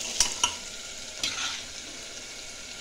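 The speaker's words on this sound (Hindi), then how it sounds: "अब इसमें हम ये आलू जो तल के रखे हैं, ये आलू डालेंगे।" Fried potatoes go into a pot of cooking mutton korma pulao, giving a few sharp clinks and scrapes over a soft, steady sizzle, close and fairly quiet with no talking.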